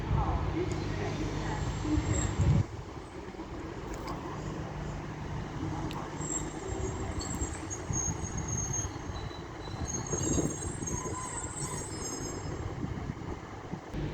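Class 150 diesel unit 150276 at Doncaster station on the East Coast Main Line, a loud rumbling engine and rolling wheels that drop to a steady running clatter, with someone talking over it.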